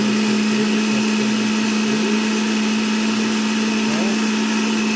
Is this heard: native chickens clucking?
no